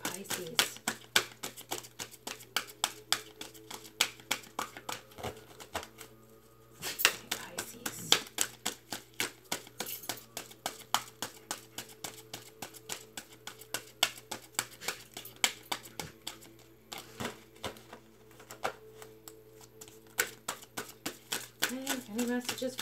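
Tarot cards are shuffled in rapid, crisp bursts of riffling snaps, repeating steadily throughout with brief pauses between rounds.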